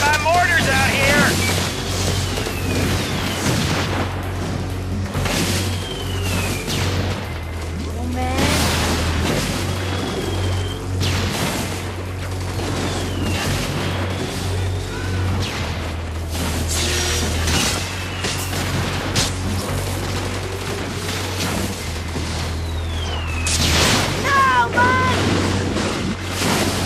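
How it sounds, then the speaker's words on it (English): Mortar explosions boom repeatedly in the Infamous 2 video game, deep low thuds and rumbles recurring through a dense battle mix with wind-like noise and scattered voices. "We're getting pounded by mortars out here!"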